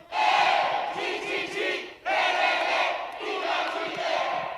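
A large crowd chants "Chi-le" loudly in two rhythmic bursts at a Catan world championship event, a brief pause between them, the roar filling the space with no one speaking over it.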